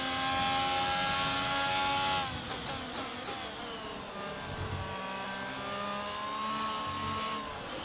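Race car engine in the F1 22 video game during a wet Singapore race, a loud high-pitched whine that revs and shifts, then drops and rises again as the car accelerates, with no talking.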